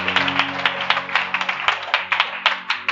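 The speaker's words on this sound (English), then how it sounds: "Let's clap for Jesus." A church congregation claps for Jesus in a steady, rhythmic beat of close, crisp handclaps, repeating evenly throughout with a faint hum underneath.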